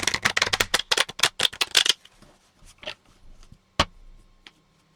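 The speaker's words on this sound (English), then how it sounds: "a few more shuffles and then we'll get going." Close riffle shuffles of a deck of playing cards for an APBA tabletop soccer game, with a rapid crisp flutter that stops abruptly, then soft handling rustles and one sharp tap of the deck on the table.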